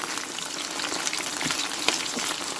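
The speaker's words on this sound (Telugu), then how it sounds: "ఇవి ఒక 1 మినిట్ మంచిగా ఫ్రై చేయండి." Violet brinjals fry in a hot pan with a steady, dense sizzle and crackle that holds level throughout, close by and without any talk.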